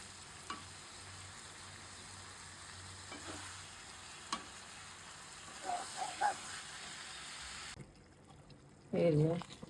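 Rohu fish fat melts in a pan with a soft, steady sizzle, a few faint clinks and scrapes scattered through it, and a brief voice near the end.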